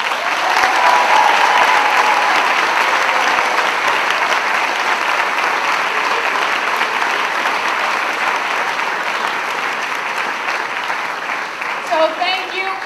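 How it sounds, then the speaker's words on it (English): Sustained audience applause fills the room at a grantee event honoring community groups, steady and loud throughout the stretch with crowd noise, tapering slightly near the end. "Please give them a round of applause."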